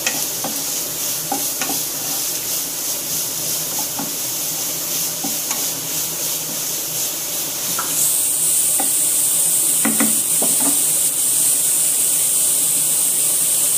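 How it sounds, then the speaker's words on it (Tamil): Grated carrot and softened onions sauté in a hot pan for Tamil-style carrot rice, giving a steady broad sizzle with occasional stirring scrapes and clicks. The sizzle grows louder and brighter partway through and continues alone, with no talk. "இப்ப நம்ம ஒரு கப் கேரட் சேர்த்துக்கலாம், துருவன கேரட். நல்லா வதக்கிக்கோங்க."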